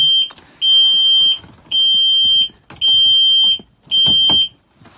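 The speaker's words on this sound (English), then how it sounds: "the boat won't start and it'll start beeping at you" A loud, high electronic boat kill switch alarm beeps in five long, evenly spaced tones, with brief gaps of background noise between them.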